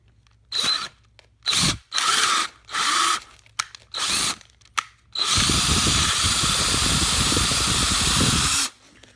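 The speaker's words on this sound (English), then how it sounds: "Now you should be able to drill in here." A power drill whirs in several short bursts while drilling into wood, then runs steadily for a few seconds before stopping; close and loud with no talking.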